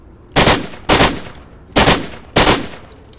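Four loud, sharp gunshots in S.T.A.L.K.E.R.: Lost Alpha fire in an uneven rhythm, each with a short ringing tail, close and alone.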